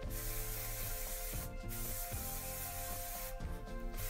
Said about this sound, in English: Next, I'm gonna add some shine hairspray.